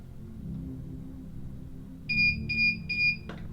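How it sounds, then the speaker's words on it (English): A Guardian overhead garage door opener gives a rapid series of three high electronic beeps, evenly spaced and fairly loud, ending with a faint click, over a low background hum. "You're going to press and hold this button until you hear it beep."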